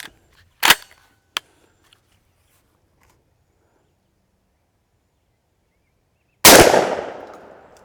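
A shotgun firing Federal Flitecontrol Personal Defense 00 buckshot through an improved cylinder choke, preceded by a few sharp mechanical clicks, then one loud, sharp blast with a decaying echo.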